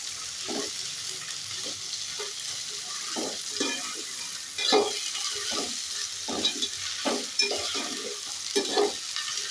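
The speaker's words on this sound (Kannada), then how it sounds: "ಇದು ಸ್ವಲ್ಪ ಫ್ರೈ ಆಗಲಿ." Carrots, beans and potatoes frying in a pan for khara bath, with repeated scraping stirs cutting through a steady background sizzle, close and fairly rhythmic throughout.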